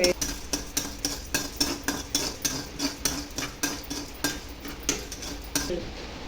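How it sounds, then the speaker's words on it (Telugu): Urad dal is roasted over a low flame in a pan, stirred with a metal spoon that scrapes and clinks in a quick, regular rhythm of about two strokes per second, with little sizzle. "మినప్పప్పు అండి, ఇలా చక్కగా బాగా వేయించుకోవాలండి సన్నని ఫ్లేమ్లో దోరగా"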